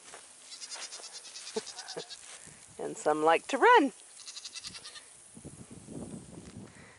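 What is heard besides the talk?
goats bleating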